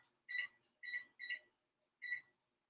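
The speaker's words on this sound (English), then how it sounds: "I'm going to set the timer" Kitchen timer being set while cooking at home: four short bright electronic beeps, the first three in quick succession and the last after a pause, close and clear with no talk.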